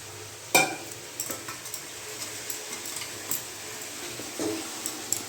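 Fish curry with sauce stirred and fried in a pan, a low sizzle broken by repeated sharp scrapes and clacks of a spoon against the pan, close and fairly loud.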